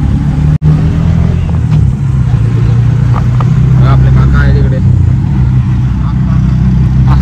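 A steady mid-pitched engine drone from an auto rickshaw riding toward Ganpatipule from Ratnagiri at six in the morning, constant throughout with a brief dropout near the start, while people talk over it.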